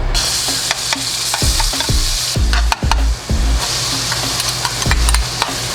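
Garlic frying in oil in a pan for Filipino spaghetti, a steady close sizzle broken by several sharp clacks of stirring.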